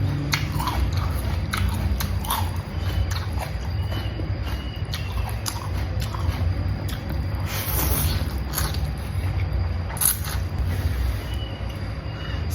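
Slurping and chewing of Lao-style boat noodles, steady close mouth noises and soft bites running continuously under a low room hum, with a few brighter smacks.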